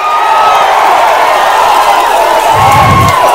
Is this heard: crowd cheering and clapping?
yes